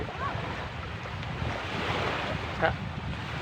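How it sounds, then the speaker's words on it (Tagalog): Ocean surf washes steadily onto a tropical beach where people are swimming, a broad continuous roar with wind buffeting the microphone and no speech. "kami ngayon sa dagat, naliligo"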